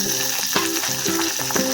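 Onion crackling and sizzling in hot oil with bay leaf, whole spices and garlic, a steady bright frying hiss broken by periodic louder crackles and stirring scrapes, close and fairly loud with no talk.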